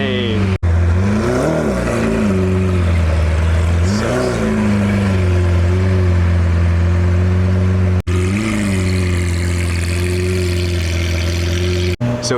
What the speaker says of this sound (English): So here it is, the Lamborghini Aventador SV.